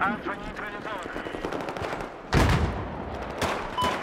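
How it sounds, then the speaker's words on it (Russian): Bursts of rapid automatic gunfire crack out in Battlefield 4, a heavy volley midway and more shots after, over a busy, noisy battle background with voices. "Откуда стрельба идет"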